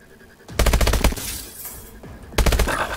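Automatic gunfire in Call of Duty Advanced Warfare comes in two loud, rapid bursts separated by a brief lull filled with a fading swoosh, with no voices over it.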